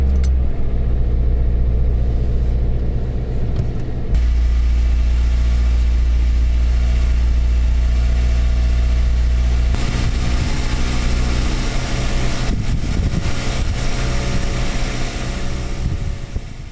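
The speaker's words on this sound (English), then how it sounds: "This car, however, constantly stays idling at around 1800 RPM regardless of the engine temperature" A 1999-2005 Toyota RAV4 1.8L 1ZZ-FE engine stuck at a high idle near 1800 RPM, a steady close mechanical hum with a deep low rumble that drops partway through, then continues as a lighter drone.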